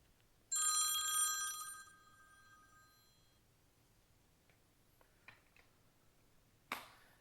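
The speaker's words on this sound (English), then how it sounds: "Let me answer that phone." A telephone rings once in a quiet indoor room, a single bright metallic bell burst lasting over a second, followed by faint scattered clicks and a sharp knock near the end, with no talk.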